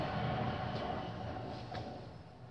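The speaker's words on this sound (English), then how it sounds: "Oh my god, a train!" A train passes at moderate distance, giving a low, steady rumble and rolling drone that slowly fades, with no clear voices over it.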